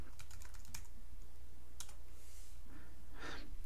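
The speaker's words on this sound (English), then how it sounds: "you can even double click one of these markers and you can type something in like oscillating" Computer keyboard typing while entering a marker name in Adobe Premiere Pro: a quick run of close, crisp key clicks, a pause, then a few more taps and soft clacks, with no voices.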